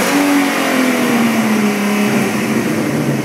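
A 2011 Ford Mustang engine revs steadily through a throaty exhaust, loud and close, holding a sustained drone with a slowly falling pitch.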